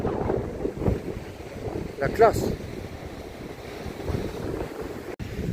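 Wind buffeting a microphone at the Spanish seaside, a continuous rough low rumble with gusts, while someone speaks briefly and water sloshes faintly nearby.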